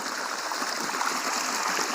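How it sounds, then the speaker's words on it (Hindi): Groundwater gushes from a pipe to irrigate a field of mustard crops, a steady, fairly loud, close rushing flow with no voices. "उसमें से ये इस तरह पानी का बहाव निकल रहा है।"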